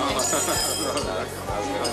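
Glasses of white wine clink together in a toast at a doctors' social gathering, several bright chimes ringing over a background of crowd chatter.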